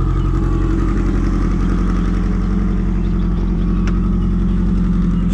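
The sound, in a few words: loud car engine revving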